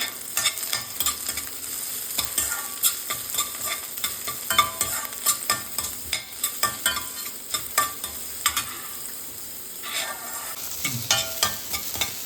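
Chopped onion fries in a pan for broccoli noodles, giving a continuous sizzle broken by frequent sharp ladle scrapes and taps against the metal as it is stirred, close up and with no voices.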